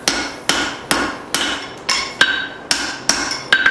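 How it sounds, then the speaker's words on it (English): A hammer forges the eye of a spring steel hatchet, nine sharp ringing blows landing in a steady rhythm, close and loud with no talk. "Heavy forging on this eye."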